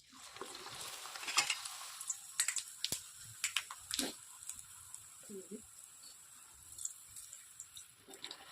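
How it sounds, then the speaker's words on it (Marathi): Puri drops into hot oil and fries with a bright crackling sizzle, loudest at the start and easing into softer bubbling, with a few clinks and light handling noises nearby. "आता ही मी पुरी तेलात टाकून तळून घेते."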